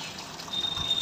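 Water being poured to fill a bird's water container makes a quiet, brief trickle and splash that rises slightly toward the end.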